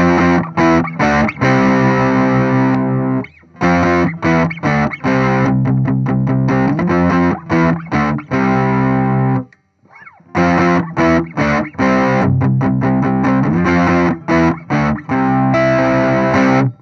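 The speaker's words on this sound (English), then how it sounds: "I wonder how it sounds like with some drive. So I've got the SD1 from Boss." An Ibanez AMH-90 hollowbody guitar runs through a Boss SD-1 overdrive pedal and plays loud, sustained distorted chords and riffs in phrases, with two short pauses. No one speaks.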